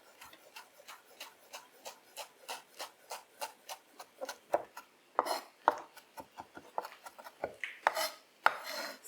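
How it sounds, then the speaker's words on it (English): A knife chops fresh mint leaves on a board for Cretan greens hand pies, with steady rapid close taps that grow louder and more irregular in the second half. "And then gather all the leaves up and finally chop the mint too."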